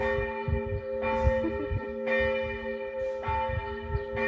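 Church bells ring with repeated strokes about once a second, each with a long ringing tail, moderately distant and steady, with no talk.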